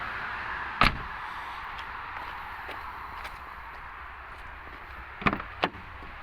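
Doors on a Volkswagen Vento car are shut: one solid thud early on, then two more close together near the end, over a low, steady background.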